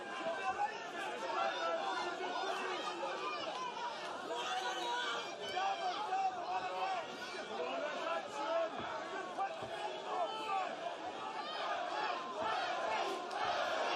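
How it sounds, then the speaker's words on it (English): A big arena crowd at a strongman boxing match, a dense roar of chatter, shouts and cheering that carries on without a break and sounds loud and far off. "Crowd once again trying to lift Eddie Hall."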